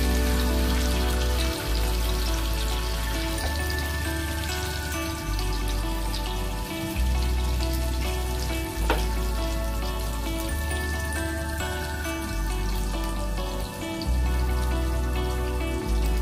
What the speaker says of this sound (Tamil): இப்போ வந்து திருப்பி போட்டு ஒரு 2 நிமிஷம் ஆயிடுச்சு, ஃப்ரை ஆயிருக்கும்